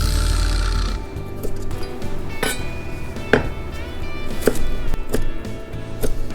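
Irregular knife chops cutting daikon radish into 5 mm strips on a cutting board, sharp thuds spaced unevenly over a low steady background hum, close and fairly loud.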